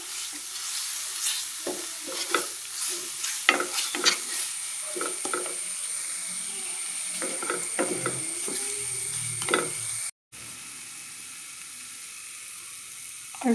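Spices fried in a pan with salt and turmeric are stirred with a utensil, giving repeated scraping strokes over a steady sizzle, close up and without talk, before a short cut near the end.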